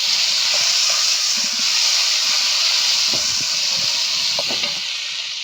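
Sliced onions and spices frying in hot oil in a pan, a loud continuous hiss and sizzle close by, with faint low clatters and stirring thumps scattered through it.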